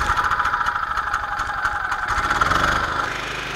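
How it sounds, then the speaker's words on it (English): A Chinese-made petrol generator runs close by with a loud, steady mid-pitched engine drone and a faint rattle, its tone dipping slightly near the end. "we're going to have to burn some petrol in the Chinese generator"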